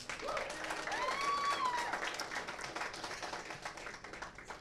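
An audience in a pub at a college signing-day gathering claps steadily, with a rising whistle cutting through early on before the applause gradually fades.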